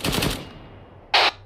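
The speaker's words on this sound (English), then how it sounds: "I hear some gunfire to the southwest." Gunfire in the military shooter ARMA 3: a short rattling burst of rapid shots, then a brief single crack after a pause, both fairly loud and with no talk over them.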